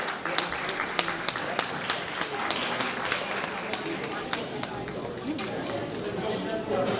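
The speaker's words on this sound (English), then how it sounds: "give him a round of applause as he's coming up the stage" Audience applause fills a banquet hall at a fundraising event, a dense steady wash of many hands clapping with sharp individual claps standing out, accompanied by crowd chatter and voices throughout.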